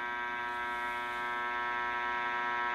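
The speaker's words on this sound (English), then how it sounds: "I got sound out of the radio" Restored 1934 Grunow 501 antique tube radio powered up during chassis work, giving a steady, faint electrical hum with a buzzy harmonic tone and no speech or music.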